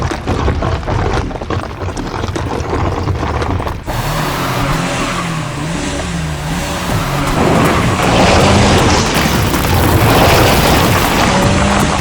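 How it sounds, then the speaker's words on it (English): A car engine revs and strains loudly on a steep volcano slope, with wheels spinning and tires scrabbling, the rough roar rising and falling without getting anywhere. "I could hear you trying your best and the car wasn't coming."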